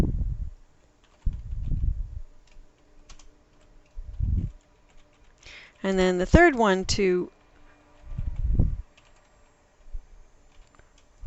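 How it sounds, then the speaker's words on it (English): Sparse taps on a computer keyboard come in short bursts between pauses, while someone talks through a web layout lesson. "I'm keeping up with my typing."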